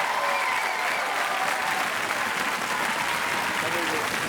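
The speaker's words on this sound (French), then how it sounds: "on ne peut que s'incliner bien bas et l'applaudir très très fort" Loud, sustained applause from an audience for a young child champion named Hugo on a French TV show, dense steady clapping filling the whole stretch without pause.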